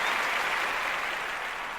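Brief burst of audience applause at a talk, a dense, continuous patter of many hands clapping at close range with no voices over it.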